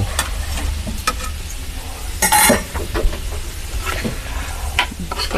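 A ladle scraping and stirring pickle in a frying pan, with soft sizzling beneath and a brighter clatter of metal midway through, close and steady for several seconds.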